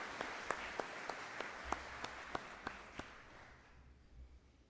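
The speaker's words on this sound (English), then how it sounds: "Let's give them a round of applause." An audience at a Northwest Iowa Community College summer commencement breaks into applause, a broad wash of clapping from a large crowd that swells and then fades away, distant and fairly soft.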